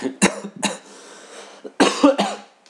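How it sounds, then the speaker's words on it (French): Two pairs of sharp coughs, close and fairly loud, with a brief quiet gap between the bursts. "Excusez-moi pour cette petite toux."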